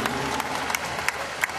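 Scattered applause from a church congregation at an HKBP Easter service, a thin, moderately distant patter with a few sharper claps standing out over a low murmur.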